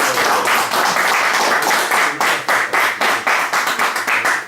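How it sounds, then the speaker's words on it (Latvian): A crowd applauds at a LAN party award ceremony, loud sustained clapping close by, with no voices clearly heard. "Ar aplausi."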